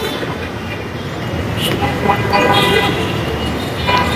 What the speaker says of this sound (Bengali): এই প্রথম আমার মেট্রো রেল যাত্রা